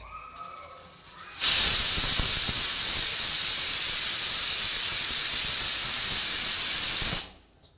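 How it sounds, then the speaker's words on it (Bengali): Milk heating in a pot for payesh in a home kitchen gives a sudden steady loud hiss that holds for several seconds, then cuts off abruptly. "পায়েসের জন্য দুধ বসিয়ে দিয়েছে হাঁড়িতে"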